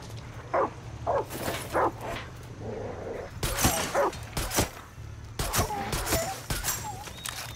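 A dog in the video game Far Cry 6 barks repeatedly in uneven bursts, some sharp and loud, amid other game noises and a low steady hum.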